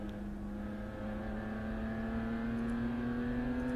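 Porsche Boxster race car engine at an endurance race, off throttle on the approach to a corner, a steady droning note that rises slowly in pitch, heard continuously at moderate loudness with no talk.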